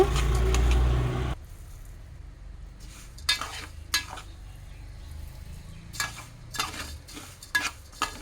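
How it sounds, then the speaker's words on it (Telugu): A frying chili spice mixture is stirred in a pan: a loud burst at the start, then quieter repeated scraping strokes and clinks at an uneven rhythm over a low background. "పైకి కిందకి తిప్పుకుంటూ కలుపుకోవాలి"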